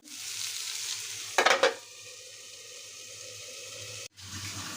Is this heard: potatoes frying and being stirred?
yes